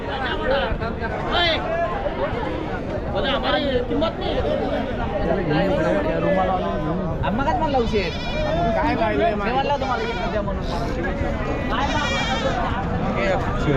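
Goats and sheep bleat over and over at Chakan's big weekly goat and sheep market in Maharashtra, the calls overlapping densely and close by amid a steady crowd chatter.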